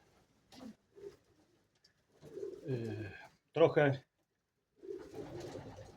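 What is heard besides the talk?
pigeons cooing in a loft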